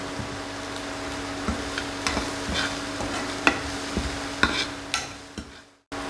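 Onions frying in a pan with salt added, a steady sizzle under repeated scraping stirs of a spoon against the pan, close and moderately loud, with no talking.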